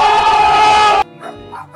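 A dog gives one loud, drawn-out bark up close, followed by softer faint whimpering sounds.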